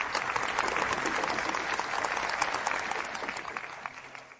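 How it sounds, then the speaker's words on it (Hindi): A dinner gathering breaks into warm applause welcoming a woman to the stage, fairly faint clapping from a group, steady at first and then thinning and fading out. "चलो हम गर्मजोशी से तालियों से चौंशी यू का मंच पर स्वागत कर उद्घाटन की घोषणा कर।"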